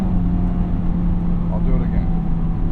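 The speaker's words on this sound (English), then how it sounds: "Push in the clutch, rev, let go of the clutch, smooth transition." A manual transmission car downshifting from fourth into third gear: a steady engine drone with a brief rev, heard under someone talking.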